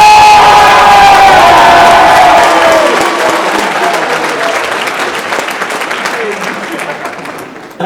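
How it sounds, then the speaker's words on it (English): Loud, close applause with cheers and whoops from a crowd at an education forum, starting at full strength and gradually fading over several seconds. "this is your first, big applause"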